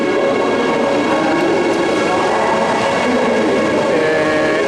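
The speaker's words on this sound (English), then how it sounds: "An ICE train, similar to the one we missed today." Steady, loud rumble of a high-speed ICE train departing close by, with continuous mechanical roar and a faint hiss throughout, no voices.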